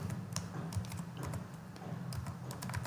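Rapid, steady typing on a computer keyboard while writing Python list code, with close, crisp keystrokes clicking continuously and no voices.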